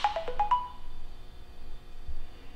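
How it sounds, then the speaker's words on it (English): A mobile phone goes off in a workshop during bowstring work on a Mathews Halon bow, with a quick run of bright, short electronic ringtone notes at the start, then low room noise. "if somebody would silence their phone, it would probably not keep going off in the video"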